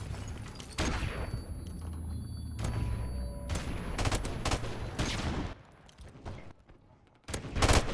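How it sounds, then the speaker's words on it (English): Gunfire aimed at the player in MWR, a Modern Warfare Remastered match, comes as loud close bursts and sharp cracks, with short lulls between volleys and a hard burst near the end. "Oh, I'm getting shot at."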